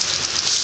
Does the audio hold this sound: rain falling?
yes